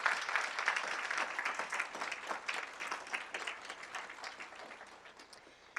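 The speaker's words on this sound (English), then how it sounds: "And I think they deserve an incredible round of applause." Applause from a keynote audience at a conference on inclusive education, with dense steady clapping that is fairly quiet and distant and slowly fades over about six seconds.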